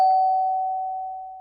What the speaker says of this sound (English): each time we ring the bell, this happens